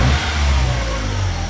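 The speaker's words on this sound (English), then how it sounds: "we finally have a good running engine" The swapped engine of a 1990 Ford Ranger, running with the hood off, revs up loud and close, then settles into a rough, steady rumble.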